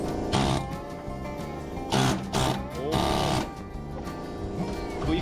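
A drill-driven spot weld cutter with a dull blade bores into sheet-metal spot welds in a DIY car bodywork job, giving a loud whining grind that surges and eases in several close bursts, with someone talking at times.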